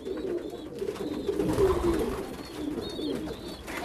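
Pigeons cooing in a loft, soft rolling coos repeating close by over a steady murmur of birds, with a few higher calls in the background.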